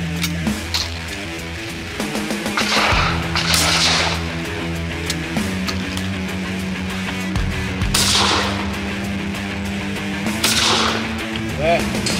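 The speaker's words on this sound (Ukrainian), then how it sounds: "як ви чуєте, останні постріли сьогодні вже пролунали" Shotgun shots ring out at a sporting clays competition, several sharp cracks spaced seconds apart over a music-like tonal background, with some reverberant bursts.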